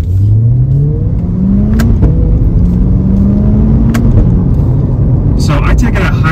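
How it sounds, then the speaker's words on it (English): Stock sport exhaust on a C8 Corvette rumbling and revving through a downshift, with engine pitch sweeping up and down and sharp crackling pops and burbles near the end, loud and close. "It does it really loud when you're going fast and you drop down from third into second gear."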